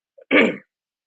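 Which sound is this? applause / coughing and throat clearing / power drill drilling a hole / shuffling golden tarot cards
coughing and throat clearing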